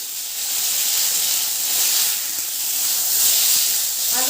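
Potatoes dropped into hot oil in a pan, giving a steady loud hiss and sizzle that swells and eases over a few seconds, close and without talk.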